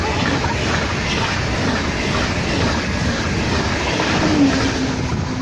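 A train rumbles through a station in Spain, a steady broadband roar with faint rail clatter that stays loud and close throughout, with no talk over it.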